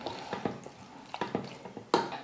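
A spoon stirs mushroom gravy in a pan, giving soft scraping clinks and light knocks against the metal in an uneven rhythm, quiet and close, with a louder clink near the end.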